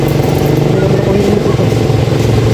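Motorcycle riding at night, a loud continuous engine drone and road rumble that fills the whole stretch, with people talking over it.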